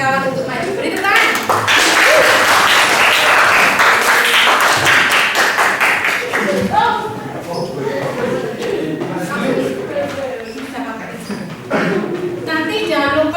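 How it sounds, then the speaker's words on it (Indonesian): A classroom bursts into a few seconds of dense clapping for a group of students heading to the front to present, then the applause thins into scattered claps as a teacher's voice takes over. "Beri tepuk tangan."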